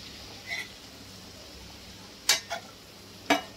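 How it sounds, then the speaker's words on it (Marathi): A spoon stirs potato and pea bhaji in a pan, giving a few brief scraping strokes spaced apart over a soft, steady sizzling background, close and quiet. "भाजी मिक्स करूया चांगली आपण।"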